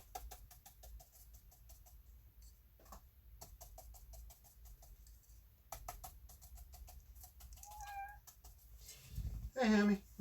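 A pet cat meows a few times near the end, close and fairly loud, after a stretch of soft brushing and movement sounds with a person talking during a watercolor painting session.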